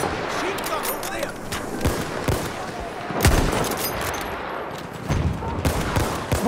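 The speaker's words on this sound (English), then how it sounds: "Machine gun over there!" Video-game machine gun fire on the River Somme map: rapid bursts of automatic shots mixed with single heavy cracks, loud and close, with voices heard at times beneath the gunfire.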